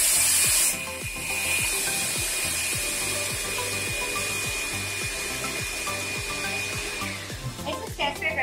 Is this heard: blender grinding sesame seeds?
yes